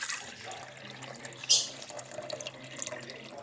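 Water is poured into a propagation bubbler container, making a soft, continuous splashing trickle with a brief louder splash, while a person talks over it.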